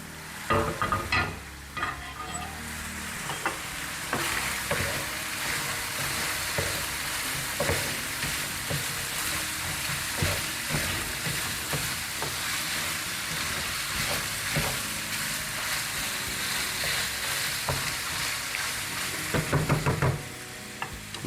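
Italian sausage browning in a pan for Zuppa Toscana soup, a steady close sizzle and fry with occasional clinks and scrapes of stirring throughout.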